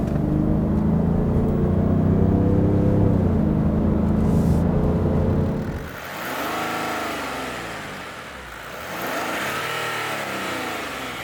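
Kia Mohave SUV with a 3-liter V6 diesel driven in sport mode: a steady, loud engine drone that gives way to rising and falling revs as it accelerates through gears, heard close with no talk.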